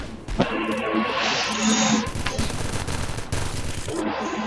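Rapid bursts of pistol gunfire in a video game, dense cracking shots firing in quick succession for most of the few seconds, loud and close over a noisy game mix.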